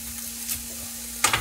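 Bacon frying in a pan, a steady faint hiss with a low hum underneath, then a couple of sharper scraping clatters near the end.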